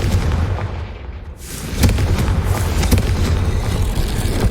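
A Confringo spell from Hogwarts Legacy lands with a heavy explosive boom, then a loud, sustained rumble and crackle that fills the rest of the moment.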